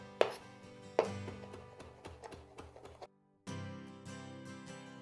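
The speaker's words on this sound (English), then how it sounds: "run our knife through, chopping them finely" Knife chopping Thai basil finely on a cutting board, a run of quick, crisp taps in an irregular rhythm, close and clear, with a brief pause before more chopping resumes.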